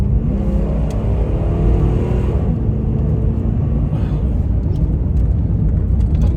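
A 1992 Cadillac Sedan DeVille kicks down and accelerates hard, its engine a loud, steady low rumble heard from inside the car that climbs in pitch, then settles into a continuous roar.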